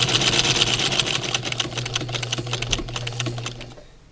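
A sewing machine stitches a five-layer face mask with rapid, even mechanical clatter, close and moderately loud. It runs continuously, then slows and stops near the end.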